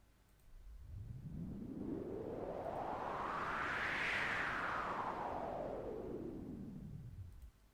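White noise synthesized in FL Studio 12 and shaped by automation, a steady hiss whose filter sweeps upward to a bright peak then back down, forming a smooth rising and falling whoosh that plays alone for about seven seconds.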